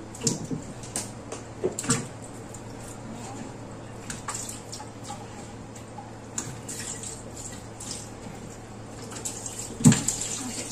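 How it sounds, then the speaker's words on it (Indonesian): Cut pumpkin pieces for a soup are rinsed under a running tap. Quiet, steady water flow is broken by occasional splashes and knocks, with a stronger splash near the end. "sebenarnya sudah dicuci tapi ini saya akan saya cuci kembali"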